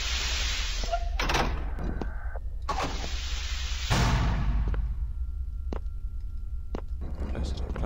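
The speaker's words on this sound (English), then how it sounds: "Close the door. Close the door. Close the door." A heavy door closing in the video game SCP: Containment Breach, a sliding mechanical rumble ending in a thunk, heard twice across the clip over a low constant drone, with scattered short clicks.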